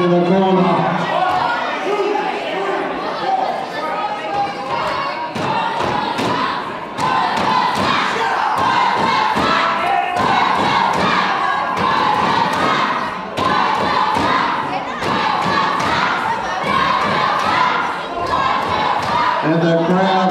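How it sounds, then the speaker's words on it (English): Wrestling crowd at a CWA championship match jeers loudly and continuously at a wrestler, a dense roar of shouting voices with thuds from the ring mixed in. "the crowd let Roswell know what they think of him"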